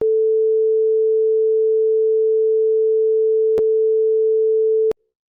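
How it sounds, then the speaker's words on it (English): A pure 440 Hz sine wave synthesized in Rust with FunDSP plays as one loud, unbroken steady tone for about five seconds, with two brief clicks before it stops abruptly. "This is just going to make a pure sine wave at 440 hertz"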